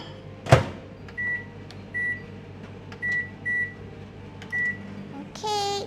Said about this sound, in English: And then you put them in the microwave at 500 watts.